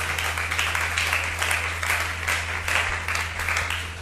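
A church congregation applauds the Lord Jesus with steady, dense clapping from a crowd, continuous and fairly loud throughout, with no voice above it.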